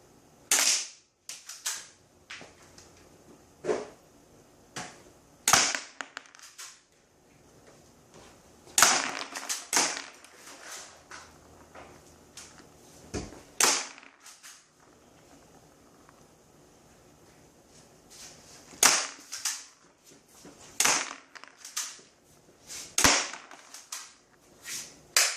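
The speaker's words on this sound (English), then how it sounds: "be able to come around and poke out and take shots, to know what it's like to actually squeeze rounds off inside your house" Airsoft gun shots ring out during indoor drills inside a house: sharp, close snapping pops fired singly and in quick pairs or bursts, spaced irregularly across about twenty-five seconds with quiet gaps and faint handling between them.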